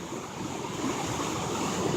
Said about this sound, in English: where the water flows smooth